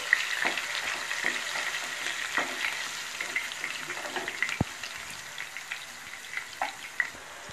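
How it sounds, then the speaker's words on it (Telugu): Two onions and two green chillies lightly deep-fry in oil for a country chicken masala curry, a close steady sizzle broken by frequent small crackles and spoon scrapes, with no voices. "దీని మొత్తాన్ని లైట్ డీప్ ఫ్రై చేసుకోవాలి."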